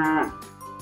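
A cow gives a single short, loud moo, close and clear, harmonic tone falling away in under a second.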